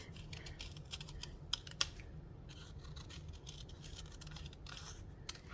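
Scissors cutting a wiggly algae shape from paper card for a handmade bubble fish card, quiet close snipping and rustling with a couple of sharper clicks, faint and without talking.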